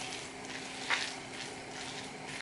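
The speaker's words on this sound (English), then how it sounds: "Let's mix this all up." Spicy noodles tossed with black sauce in a bowl, making a soft wet squelching and clicking that carries on steadily up close, with no talking.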